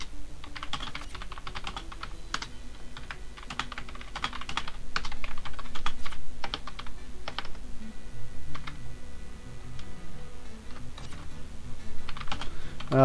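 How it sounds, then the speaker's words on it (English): Computer keyboard typing comes in quick bursts of clicking keystrokes with short pauses, close and clear, getting busier toward the end. "Just typing, sorry."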